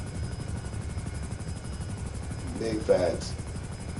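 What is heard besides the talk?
helicopter flying in video game GTA Online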